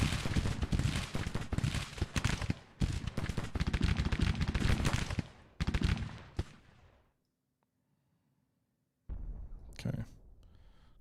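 Massed musket volleys and artillery in a Grand Tactician: The Civil War battle, a dense rattle of overlapping gunfire for about seven seconds, then near silence, then a short renewed burst of shots.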